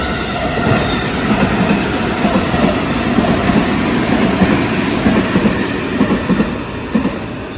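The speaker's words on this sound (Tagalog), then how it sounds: "Ayan o, yung train." A train passes close by in Japan with a loud, continuous rumble and rhythmic clickety-clack of wheels over rail joints, rising and falling slightly throughout, with no voices.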